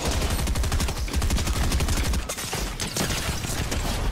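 Gunfire with a mammoth pistol in a video game. The dense, rapid rattle of shots continues loudly for the whole stretch, with mechanical clatter mixed in.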